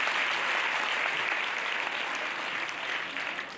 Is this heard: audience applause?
yes